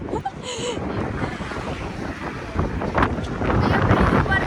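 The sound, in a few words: strong wind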